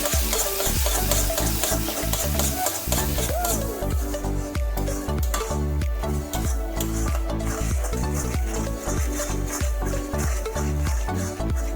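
Spice paste with Kashmiri red chilli powder for a Bengali duck curry sautéed in oil in a pan, with steady sizzling and repeated scraping stirs throughout, loud and close, over a continuous background of music.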